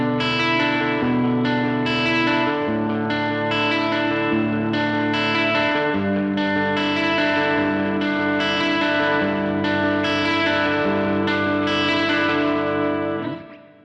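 An electric guitar riff with distortion and chorus effects, built on wide-stretch chord shapes with the higher strings pulled slightly sharp. Dense, sustained chords ring continuously and loud, with shifting voicings, alone until a brief fade at the end.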